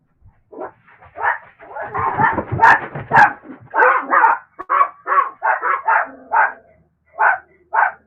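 Several dogs bark loudly and close by in a quick, irregular string of barks and yips, with a steady run of short barks toward the end.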